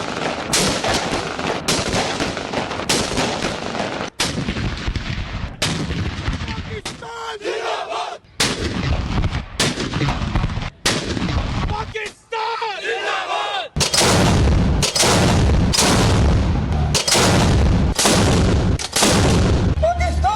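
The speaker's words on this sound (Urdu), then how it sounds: "اسلام آباد میں 31 اور صوبائی دارالحکومتوں میں 21 توپوں کی سلامی" A ceremonial cannon salute for Pakistan Day, part of 31- and 21-gun salutes in Islamabad and the provincial capitals, fires as a series of loud, booming blasts at uneven intervals, with crowd noise between them.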